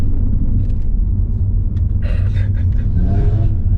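An Audi RS3 2019 fitted with a full Milltek exhaust rumbles at close range with a steady low engine drone, crackling pops and bangs breaking through intermittently over the idle.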